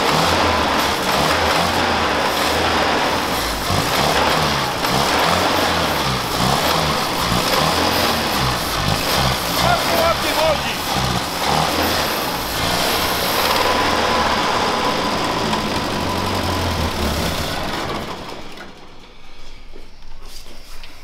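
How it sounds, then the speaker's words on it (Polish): An old GAZ-M1 car engine, started after decades of disuse, runs loudly and roughly with a steady chugging rhythm, then cuts off near the end, leaving quiet. "tych dźwięków silnika"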